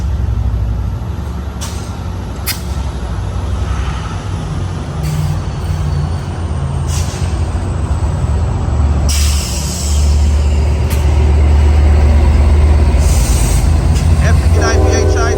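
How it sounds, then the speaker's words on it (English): Amtrak Capital Corridor doubleheader with two F59PHI diesel locomotives rolls past at Oakland Jack London, giving a continuous loud low rumble with hissing and clanking bursts, while someone talks over it. "this is the out of service Amtrak Capital Corridor 551. Headed back to the yard."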